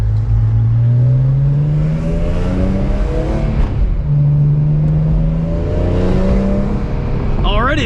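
A track-prepped 2005 BMW E46 M3 Competition with a 6-speed SMG gearbox pulls hard on a circuit, its engine note rising through two long loud sweeps with a shift between them, heard close from inside the cabin.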